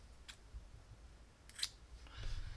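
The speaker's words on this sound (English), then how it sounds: "and cut my yarn." Scissors snipping yarn during crocheting, a couple of faint, brief close clicks in a quiet room.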